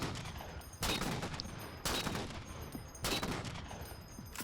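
Anti-materiel rifle fire in the Halo game, three heavy booming shots spaced about a second apart, each loud and sharp with a decaying tail over a steady background of combat noise.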